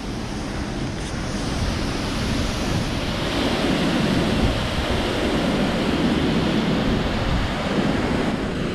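Water rushes out of Neyyar Dam in a steady, broad roar, loud and continuous like a heavy outflow, with a faint wind rumble over the microphone.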